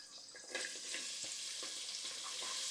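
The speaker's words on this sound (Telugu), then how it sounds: "ఆయిల్ పోసుకుందాం, వేడెక్కింది. ఉల్లిపాయ ముక్కలు వేసుకుందాం." Onion pieces dropped into hot oil for a ridge gourd curry fry with a steady bright sizzle, with soft crackles and a few stirring clicks near the pan and no talk.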